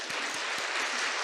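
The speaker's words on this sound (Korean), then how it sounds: "네, 다시 한번 박수 부탁드리겠습니다" A church congregation applauds during a Sunday sermon service, a steady wash of many hands clapping that holds at even loudness for a moment, with no voices over it.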